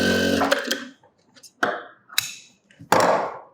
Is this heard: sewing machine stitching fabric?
yes